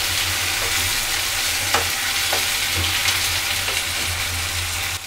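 Red chili paste, about one and a half tablespoons, frying and being stirred in a pan while cooking Kashmiri mutton rogan josh: a steady, loud sizzle with occasional scraping strokes of the spoon, no talk.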